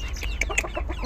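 Backyard chicken coop beside a house, with black hens of a good tall breed and their young and a rooster, giving soft intermittent clucks and short calls close by, no talking.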